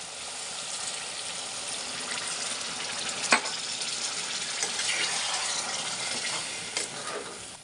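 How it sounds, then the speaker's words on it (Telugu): Water goes into a chicken and chana dal curry in a cooking pot, a steady, soft pouring and bubbling wash with a brief knock of a utensil partway through. "తగినంత వాటర్ వేసుకుందాం"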